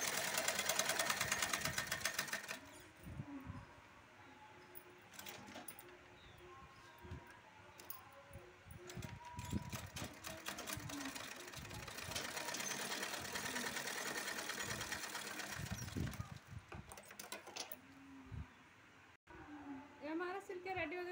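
Sewing machine stitching a folded-over fabric strip, its motor running in a steady continuous whir with short pauses and bursts, close by, with a person talking over it at times.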